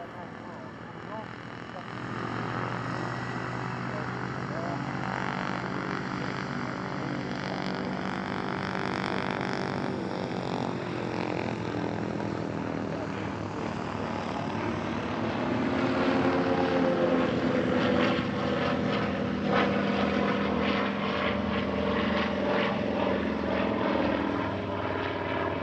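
A Nord Atlas military transport aircraft flies past at an airshow, its propeller engines producing a steady drone that swells slightly louder partway through; a voice talks over it.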